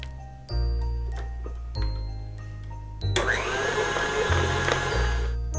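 A KitchenAid stand mixer blending New York cheesecake ingredients in its bowl: a steady close motor hum that shifts pitch with speed changes, growing louder and busier with a whirring mix toward the end, no talking.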